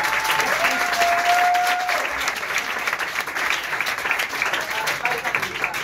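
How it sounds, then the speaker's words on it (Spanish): Studio audience breaks into sustained applause, dense clapping that stays loud and steady throughout, with a voice briefly calling out over it. "Dame un aplauso, ¿vale?"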